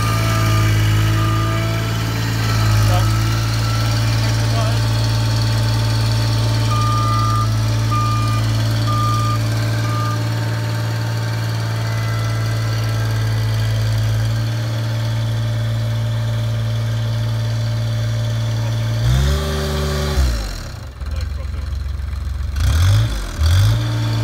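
A roller's engine runs steadily at a loud idle while a reversing alarm beeps in a regular rhythm, before the engine note shifts and surges near the end.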